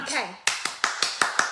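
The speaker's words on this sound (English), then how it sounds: "first you must clap your hands" In a children's online music class, a single voice speaks briefly, then hands clap six times in a steady, evenly spaced rhythm, each clap sharp and close.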